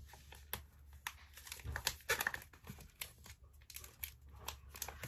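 Packing tape is pulled and pressed onto the sides of a cardboard shipping box, giving soft, close crinkling and sticky tearing sounds at a low level, with no speech.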